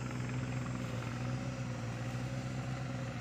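A combine harvester working a rice field, its engine giving a steady low droning rumble at a moderate distance with no breaks, fairly faint and even throughout.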